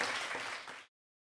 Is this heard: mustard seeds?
no